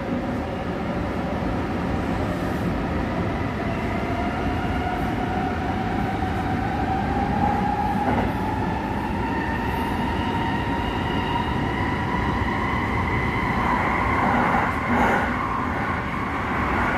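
A local commuter train bound for Akihabara, Japan rumbles steadily along the tracks, with rising whine from the motors and occasional rattles, no talking.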